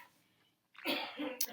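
A man with a lingering cough coughs indoors, a short rough burst followed by a second, smaller one after a brief quiet stretch. The coughs are moderately faint.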